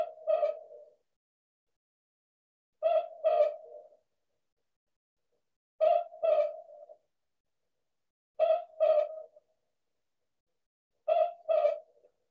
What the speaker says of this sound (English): This is a boobook owl, the southern boobook owl.